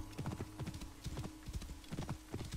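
Hooves of a horse in Assassin's Creed Origins clip-clopping in a steady, quick rhythm, close and clear, with a faint low hum underneath and no voices.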